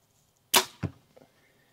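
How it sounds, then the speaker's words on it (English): A budget compound bow shooting an arrow: a sharp loud snap of release, then a thud of impact a quarter-second later, followed by small faint rattles, alone in a quiet space. "this bow's not paper tuned, I'm just shooting."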